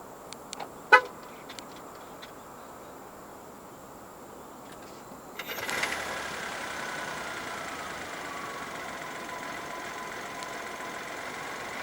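A Proton X90 1.5 TGDi is locked with a short horn chirp and a few clicks, then its engine starts by remote and settles into a quiet, steady idle heard from nearby.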